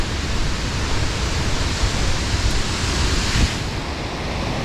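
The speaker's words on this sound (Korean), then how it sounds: "폭포가 아마 물이 엄청 날 거예요. 왜냐면 비가 연일 내렸기 때문에." A New Zealand waterfall swollen by days of rain roars in a dense, unbroken wash of rushing water that holds steady and loud throughout, with no voices.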